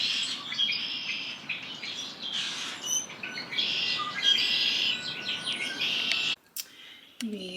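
Spring birds, including finches, chirping and twittering outdoors in a dense, lively chorus of overlapping calls close by, continuous for several seconds before cutting out abruptly near the end.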